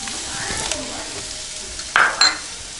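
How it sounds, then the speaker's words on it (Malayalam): Curry leaves hit hot oil in a pan for Kerala-style egg thoran, with a soft steady sizzle and a louder crackling burst near the end, plus a faint scrape of a spoon stirring. "കറിവേപ്പില ഇടുക."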